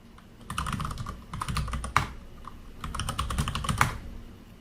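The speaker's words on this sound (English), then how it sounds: "I will enter my password." A password is typed on a computer keyboard in two quick bursts of close, crisp key clicks. Each burst ends with a sharper, louder keystroke. There is a short pause between the bursts.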